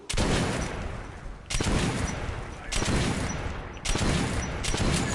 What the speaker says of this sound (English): Here, I'll fire the rest of it off